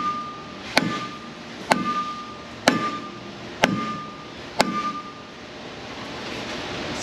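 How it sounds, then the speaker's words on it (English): Five hard, evenly spaced whacks of a dead blow hammer on the full-floating axle hub bearing of a 2002-2007 Silverado 3500 6.6, each a sharp close impact with a brief metallic ring, with no talk between them. "Now I'll give it a few more whacks with the dead blow."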